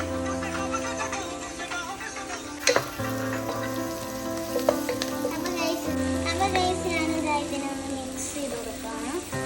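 Onions with garlic-ginger paste frying in a pan for a dhaba-style chicken curry give a steady, close sizzle, with a few sharper clinks of stirring.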